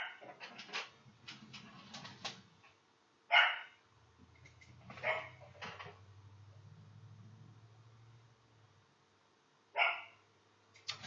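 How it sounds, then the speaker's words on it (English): Bursts of dog barking come in irregular clusters, some rapid and some single, with a low hum underneath in the pauses. "I got my dogs barking."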